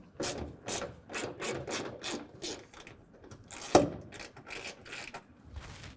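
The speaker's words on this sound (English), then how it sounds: "we're going to take a 10mm ratchet and socket" A 10mm ratchet and socket backing a bolt out of a 2023 Ford F-250 wheel well, giving a rapid series of close, dry clicking pulls with one sharp knock partway through, and no talking.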